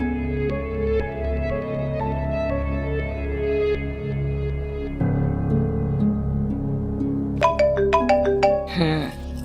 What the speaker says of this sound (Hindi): अब कर रहा है कुरैशी का बच्चा मुझे फोन